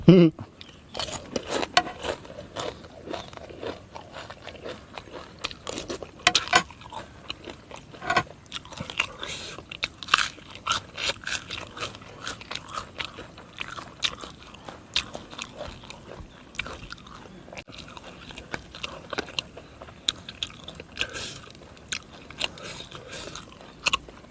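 Raw oysters and fresh vegetables are eaten outdoors at a shooting range, with close, repeated biting, crunching and wet chewing in an irregular rhythm across the whole stretch.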